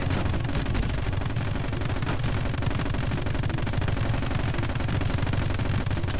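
Automated turret fire in the action video game My Friend Pedro, a continuous loud rattle of rapid shots with no pauses, dense and harsh throughout.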